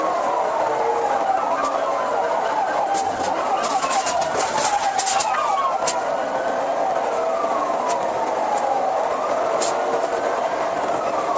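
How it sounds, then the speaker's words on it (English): Police car sirens wail continuously during a high-speed chase, their rising and falling tones sweeping loudly over a steady roar of engines and traffic, with a few sharp clicks and bursts mixed in. "Sirens wailed and engines roared"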